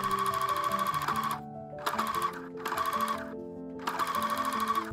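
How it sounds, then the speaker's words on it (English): A sewing machine runs in bursts, stitching bias tape onto a garment neckline: a fast, even mechanical whir and clatter, close and fairly loud, stopping briefly twice between runs. "Stretch your bias tape slightly while sewing."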